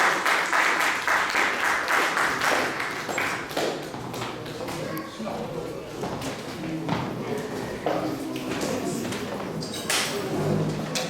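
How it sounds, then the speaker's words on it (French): A congregation at a Sunday church service claps steadily throughout, dense and sustained, with voices mixed in beneath the applause. "Acclamons pour le Seigneur et bon dimanche à tout le monde."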